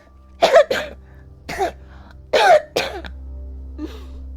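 Deep, wet coughing in a few harsh bursts, two quick coughs, a single one, then another pair, with quiet breathing between.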